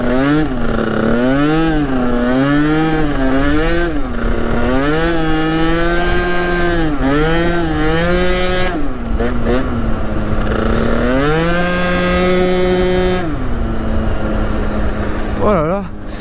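Twerkstallion moped fitted with a Rocket kit 70 sport engine accelerating hard, its buzzing two-stroke note climbing and dropping through repeated revs and gear changes, loud and close throughout.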